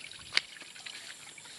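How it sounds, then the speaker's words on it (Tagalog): Faint trickling water running through an irrigation canal toward a rice field, with a soft splash early on and quiet gurgles after it. "ito yung kanal papunta dun sa palayan para maanuhan ng tubig din ng palayan"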